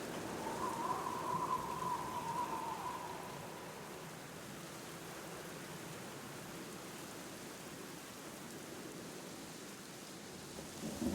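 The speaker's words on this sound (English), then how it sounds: "It's got a lot of thunder and lightning. It's, you know, rain sounds." Steady rain pours in the classic horror adventure game The Black Mirror, a soft continuous hiss of drops on surfaces, fairly quiet and unbroken throughout.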